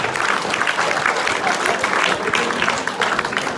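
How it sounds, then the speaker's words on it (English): A crowd at an after-prom hypnotist show bursts into brief, lively applause for a contestant, with dense clapping and some voices mixed in. "Big round of applause for contestant number"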